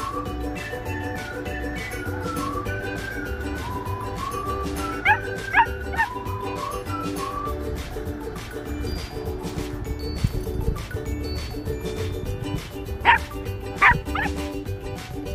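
A puppy yips and whimpers while a larger husky gives occasional barks, with playful rustling and scuffling throughout.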